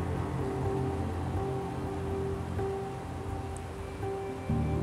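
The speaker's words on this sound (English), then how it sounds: "rain and sleet showers started to move in on us" Rain and sleet showers fall in a Scots pine glen in the Scottish Highlands, a steady hissing patter close by that stays fairly even and carries no voices.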